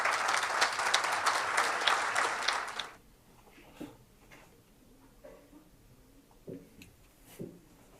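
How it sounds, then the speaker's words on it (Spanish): Conference audience applauding loudly for about three seconds, a dense wash of clapping that then stops abruptly, leaving a quiet room with a few faint knocks and rustles. "Un fuerte aplauso."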